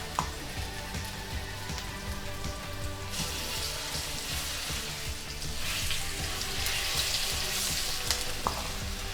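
Chicken sizzles in a pan with garlic and ginger, a steady dense frying crackle with occasional stirring clinks, close and continuous with no talking.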